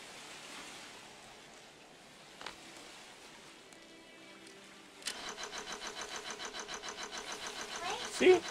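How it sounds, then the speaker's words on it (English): A boat engine in the sandbox game Stormworks cranks and catches, then settles into a steady pulsing run that grows louder toward the end, following a quiet stretch with a faint background hum. "the engine turned."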